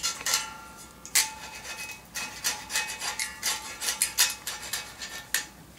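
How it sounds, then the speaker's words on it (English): A blade dry-scraping old glue off the frame of a Klipsch KD15 passive radiator, a steady run of close, loud rasping strokes in an uneven rhythm with no talk. "I just kind of dry scrape these like this until everything comes off"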